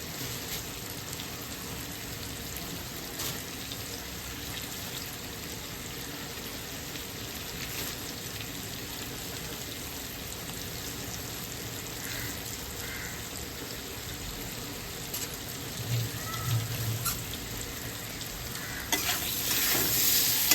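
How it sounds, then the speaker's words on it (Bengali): Vegetables fry in a pan, with a low continuous sizzle and occasional stirring scrapes, fairly quiet and steady before a brief louder burst at the end. "ওটা একটু ভালো করে ভেজে নিচ্ছি সবজির সাথে।"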